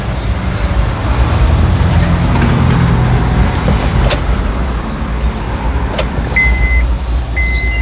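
A 2006 Honda Odyssey engine starts and runs steadily, a continuous low rumble filling the clip with a few faint clicks and a brief tone near the end, no talking.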